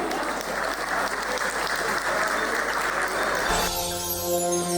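An audience claps loudly for a couple who have just danced a tango, a dense sustained burst of applause that gives way near the end to music starting up.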